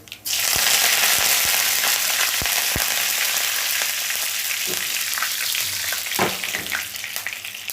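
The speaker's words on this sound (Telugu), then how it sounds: "ఇప్పుడు కరివేపాకు వేస్తానండి" Curry leaves drop into hot oil while tempering a masala gongura pulusu curry, setting off a loud, steady sizzle that swells suddenly and keeps frying, with a few small spatters and stirring clicks over it.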